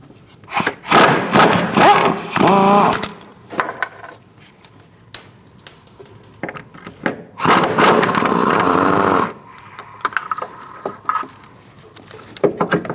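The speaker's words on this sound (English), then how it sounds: "Now we're using a 13mm long socket. We're going to take out these two bolts." Two bolts backed out with a 13mm long socket during rear shock absorber removal on a 2016-2019 Chevrolet Cruze, heard as two loud bursts of rapid ratcheting or impact-tool rattle separated by quiet pauses, with a few small clicks and clanks.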